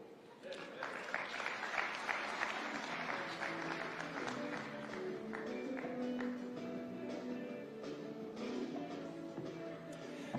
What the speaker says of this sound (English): Another round of applause for Governor Nyong'o